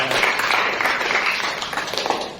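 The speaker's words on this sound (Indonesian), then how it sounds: "Oke, tepuk tangan untuk Samuel" Classmates clap for a student named Samuel in a school classroom, a short burst of steady, fairly close applause from a small group that fades slightly at the end.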